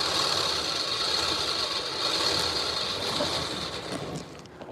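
Webbing is pulled through a buckle and tightened with a steady mechanical ratcheting rattle, close and continuous, during a break test of the webbing.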